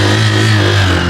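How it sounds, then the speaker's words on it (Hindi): A Honda Shine 100 DX motorcycle engine running steadily up close, a loud, even low hum with a firm fundamental and stacked harmonics, holding a constant idle with no voices. "गाड़ी को स्टार्ट करके साउंड सुन लेते हैं"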